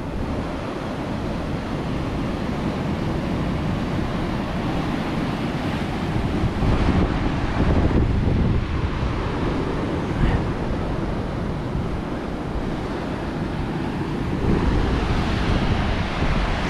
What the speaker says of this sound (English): See the waves, I mean these waves are nothing compared to what sometimes comes up here.